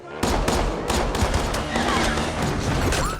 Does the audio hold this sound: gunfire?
yes